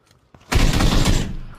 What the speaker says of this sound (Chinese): 灰帽这一梭子子弹打得非常漂亮